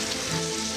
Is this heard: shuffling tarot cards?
no